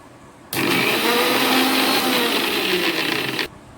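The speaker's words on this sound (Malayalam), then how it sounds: "നമുക്കിനി ഇതൊന്ന് അടിച്ചു നോക്കാം" A mixie grinder whirring through a batch of homemade mayonnaise, running loud and steady for about three seconds, then cutting off abruptly, with no voices.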